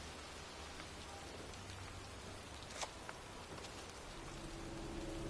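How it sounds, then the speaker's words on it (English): Steady rain falls on a cold day in a cemetery, a dense, even hiss of drops hitting the ground nearby. One or two brief sharper taps stand out, and no one speaks. "It's cold. It's raining."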